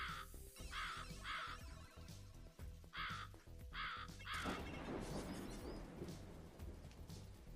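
A bird in the arcade game Snow Bros. gives a series of harsh, repeated caws in short regular bursts, followed by a rumbling crash like thunder amid electronic game sounds.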